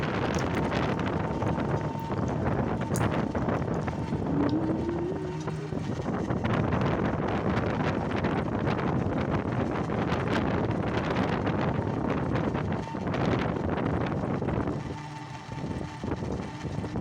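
Strong wind roars past while riding in an auto rickshaw, a loud continuous buffeting rush over the microphone with engine and road noise beneath.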